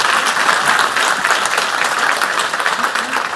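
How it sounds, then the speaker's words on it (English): A conference audience at a national manufacturing summit gives an apprentice speaker a sustained round of applause, dense and steady clapping that holds at full strength throughout with no voices over it. "let's give him another round of applause"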